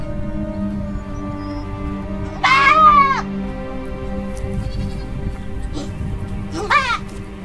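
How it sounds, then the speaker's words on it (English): A goat bleats twice at a Maasai village, each a wavering, nasal cry, the second somewhat shorter, over a low steady background hum. "The goat was suffocated."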